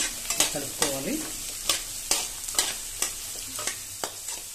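Beans and capsicum frying in a pan for hotel-style egg fried rice are stirred in regular scraping strokes, each one sharp against a low, steady sizzle.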